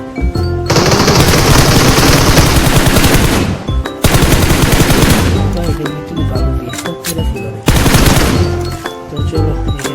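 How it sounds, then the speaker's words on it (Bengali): Enemy gunfire in a video game erupts in three loud, sustained automatic bursts separated by brief pauses, harsh and close. "এখান থেকে একটা এনিমি ফায়ার দিচ্ছে"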